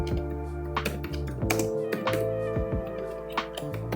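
Rapid keystrokes on a computer keyboard click in quick, irregular bursts close up, over a steady low electrical hum, with no talking.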